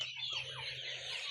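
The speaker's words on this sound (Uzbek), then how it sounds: "Mana jo'jalarimiz. Hammasi sog'lom, chotki jo'jalar." Young chickens about two and a half months old, part of a flock of around 500 at a farm in Yakkabog, Qashqadaryo, give continuous overlapping high chirps and clucks, close and steady, with no talk.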